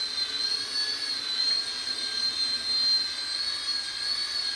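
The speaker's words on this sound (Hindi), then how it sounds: "तो ये देखिए दोस्तों अपना ड्रोन हवा में उड़ रहा है" A toy RC helicopter drone hovers in the air, giving off a steady high-pitched motor whine with slight wavering in pitch, close and continuous, no voices.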